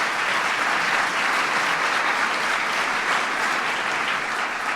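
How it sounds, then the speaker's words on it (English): Sustained, dense applause from a large audience honoring Regina Dugan at an educators' awards ceremony, steady and even throughout with no voices standing out. "so please give Regina a big round of applause"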